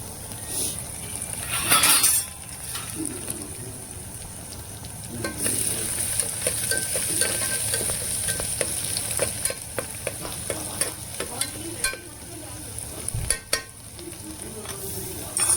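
Garlic and curry leaves sizzle and crackle in hot oil for palak sambar while a spoon stirs, with sharp clinks of metal against the pan scattered through the steady frying.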